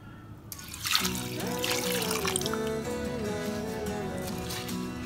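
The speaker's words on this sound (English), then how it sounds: "we are adding water to the urad dal and then water to the rice" Water trickles and pours into bowls of urad dal and rice, a steady close liquid stream with dribbling and splashing that holds on without pause, alone and with no voices.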